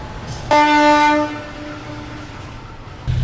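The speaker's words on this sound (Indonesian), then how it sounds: "kereta api Senja Utama Solo berangkat stasiun Bekasi" Senja Utama Solo train departing Bekasi station, sounding a loud, clear horn blast of about a second that then fades into lower rumbling, with nobody talking.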